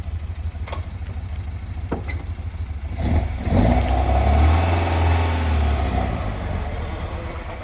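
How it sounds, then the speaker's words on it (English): A 1967 Alfa Romeo Giulia Sprint GT Veloce engine runs close by, idling at first, then revving up as the car backs up, with a steady mid-pitched rumble that stays loud to the end. "Parker's gonna back it up."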